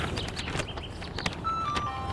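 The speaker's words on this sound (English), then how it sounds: "10 ice cream trucks in this 5-block area. Their music seems to follow me everywhere." Tinkling ice cream truck music plays amid city street noise in a neighborhood crowded with ice cream trucks, with a sustained melodic tone standing out in the second half over a busy background.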